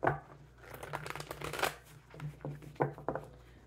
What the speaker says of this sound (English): this deck is hard to shuffle, so bear with me